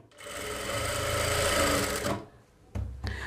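Sewing machine stitching a fall onto a saree: a loud, continuous buzzing run of about two seconds, then a pause and two brief bursts of stitching.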